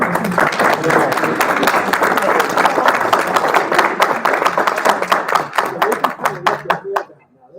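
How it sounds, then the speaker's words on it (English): Applause and clapping from the audience at a nursing pinning ceremony honoring newly licensed nurses in Maine, steady and fairly loud throughout with voices mixed in, thinning into scattered claps before stopping abruptly. "this group is all full-fledged, not only nurses, but licensed nurses in the state of Maine. So that, I think, deserves like a round of applause"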